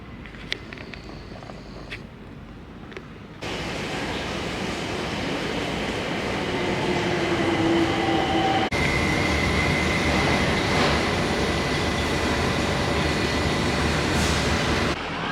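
A London Overground train runs through the old riverside tunnel near Wapping. The deep rumble is quieter at first, then swells into a loud, steady roar with faint squeals.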